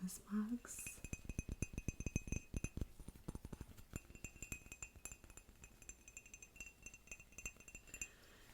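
Old Christmas mug from Japan being handled, producing many quick close ceramic clinks and taps in an irregular rhythm, soft and near with faint whispered talk.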